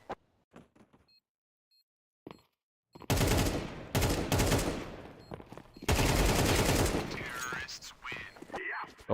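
Automatic rifle fire in Counter-Strike 2: after a few quiet clicks, loud rapid bursts of shots ring out in two long sprays with a short pause between them.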